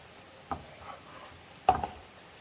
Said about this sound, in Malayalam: നമുക്ക് ഒന്നുകൂടെ ഒന്ന് മിക്സ് ചെയ്യാം